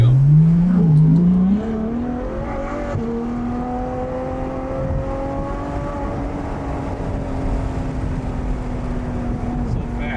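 A Ferrari F12 TDF engine pulls hard, its note rising steeply through the first couple of seconds, then settling into a sustained, droning cruise with road noise underneath.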